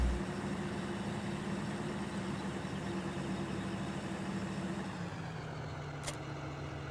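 A large tractor engine in Farming Simulator 15 idles with a steady low, droning hum that shifts pitch slightly partway through, with a brief hiss near the end.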